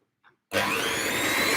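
Electric hand whisk starting up in vegan carrot cake batter, a sudden loud whirring motor after a moment of near silence, running steadily.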